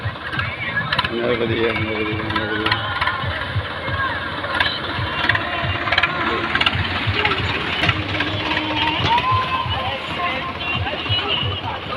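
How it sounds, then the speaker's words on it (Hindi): Tractors ford the Narmada river at a river confluence, their engines chugging steadily at mid-pitch throughout while people talk over the running motors. "ये नदी ऐसी है, सब ट्रैक्टर से पार हो रहे हैं।"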